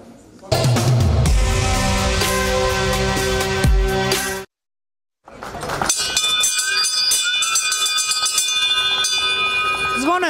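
A large bell rings out loudly with bright, lingering overtones, breaks off into silence, then resumes amid crowd noise, opening a maritime tradition festival in Rijeka, Croatia.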